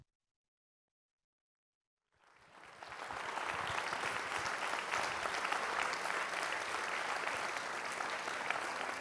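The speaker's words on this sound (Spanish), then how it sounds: "un gran aplauso para celebrar al conocimiento y la imaginación" Festival audience breaks into sustained, loud applause after a couple of seconds of silence, the clapping dense and steady through the end.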